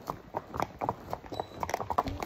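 A horse on a hill-station trail in Matheran walks close by, its hooves clip-clopping in a steady, uneven rhythm of sharp knocks on hard ground. Faint background chatter sits underneath.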